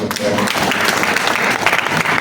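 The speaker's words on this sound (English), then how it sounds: "A round of applause" Audience applause at a panel discussion: dense, loud clapping from a crowd that fills the space continuously, with scattered voices mixed in beneath the patter.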